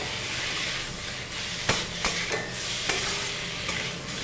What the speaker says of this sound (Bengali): এবার মশলাটির সাথে এটা একটু নেড়েচেড়ে নিয়ে আমরা